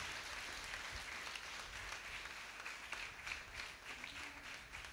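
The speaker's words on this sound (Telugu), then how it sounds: "ఒకసారి గట్టిగా చప్పట్లు కొడదాం." A church congregation claps in thanks for the youth volunteers, a faint, distant patter of many hands that runs steadily for several seconds with a slight swell near the end.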